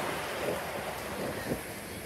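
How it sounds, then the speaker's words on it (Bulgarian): Wind buffets a microphone at the steep-sided Corinth Canal in Greece, a steady, loud, broadband rushing with gusty swells throughout and no clear talk over it. "Колко вятър има тук?"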